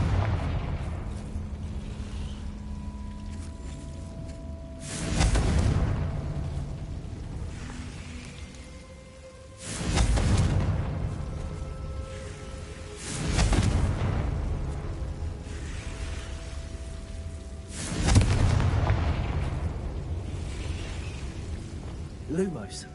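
Four heavy booming fire-spell blasts from the Confringo spell in Hogwarts Legacy, spaced every few seconds, each a loud broadband burst that decays slowly over a low rumbling game ambience.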